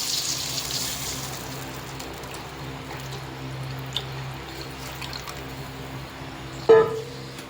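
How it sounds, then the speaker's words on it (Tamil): Tamarind water is poured into a fish curry simmering in a pot, a soft, faint liquid trickle and sizzle ending in a brief louder splash and clatter near the end. "இதான் அந்த புளி தண்ணி. இதை நம்ம வந்து அப்படியே இதில் வந்து ஆட் பண்ணுறோம்."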